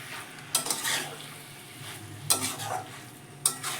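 Chicken with yogurt and spices is stir-fried in a pan, with a soft background sizzle broken by three sharp scrapes of a spatula against the pan, close and spaced a second or more apart.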